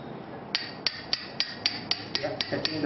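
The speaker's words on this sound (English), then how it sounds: "Hammer." A surgical hammer strikes a supracondylar nail during insertion into bone in an operating room, about ten sharp, evenly spaced metallic taps, close and clear with no talking.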